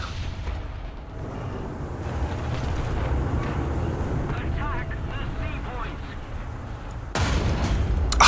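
A 122 mm tank gun fires in War Thunder, a heavy boom with a sharp broadband blast near the end, over a constant rumble of engine and battlefield noise and ongoing talk.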